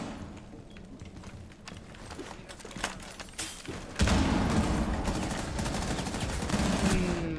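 Gunfire during a ranked Rainbow Six Siege match: a quieter stretch of scattered shots, then a loud, dense burst of rapid automatic machine gun fire from about four seconds on that continues to the end.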